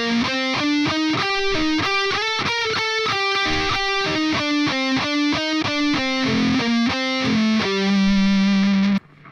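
Heavily distorted electric guitar plays a chorus riff as a fast run of picked notes shifting in pitch, loud and steady throughout, ending on a sustained held note that cuts off abruptly.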